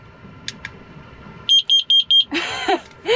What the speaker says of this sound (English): this is our carbon monoxide alarm, very important